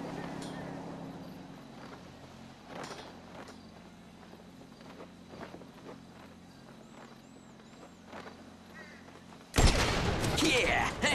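Sniper rifle shots in the game GTA V, several sharp widely spaced cracks over quiet ambience, with a loud burst of noise near the end.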